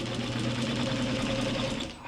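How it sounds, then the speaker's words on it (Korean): An old sewing machine driven by an electric foot pedal runs steadily, its fast mechanical stitching whir humming evenly at moderate volume, then easing off at the end. "전기 페달을 밟아서 바느질을 하게 됩니다."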